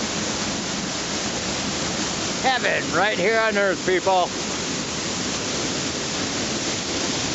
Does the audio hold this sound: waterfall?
yes